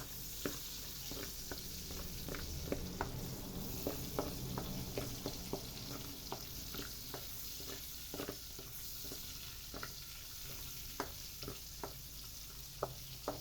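Sliced onion sizzles steadily in a hot pan for a Filipino ginisang monggo with chicken wings, a constant frying hiss broken by regular light scrapes and taps of a stirring utensil.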